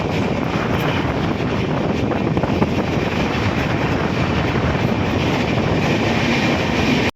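Passenger train rolling steadily through hilly country, a continuous loud rumble with faint wheel clatter throughout, no talk.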